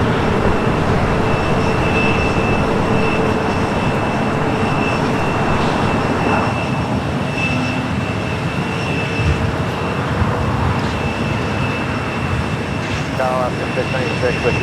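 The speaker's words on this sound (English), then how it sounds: "we do have EVA Air Cargo 777 freighter up next" Loud, steady roar of an EVA Air Cargo Boeing 777 freighter taking off at Los Angeles airport, with broadband jet noise filling the whole stretch and a voice talking over it.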